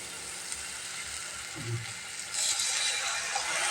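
Biryani spice mix and chili powder sautéing in a pan with beef, a steady soft sizzle and frying hiss throughout, close and moderately quiet, with a faint stirring scrape partway through.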